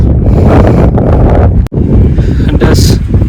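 Strong wind batters the microphone on a hill station in Kondarangi Hills, loud, gusty buffeting rumble throughout with one brief lull midway.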